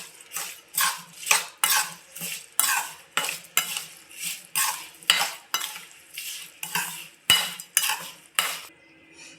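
A spoon stirs cut chillies into cooled fenugreek batter in a metal pot, about a dozen evenly spaced scraping strokes, close and fairly quiet with nothing else around.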